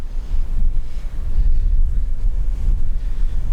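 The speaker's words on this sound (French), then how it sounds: "le vent se lève" Outdoor wind gusts buffet the microphone in a steady low rumble with surging swells, loud and close, with no voices.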